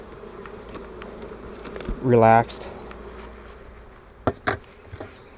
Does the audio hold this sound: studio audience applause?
no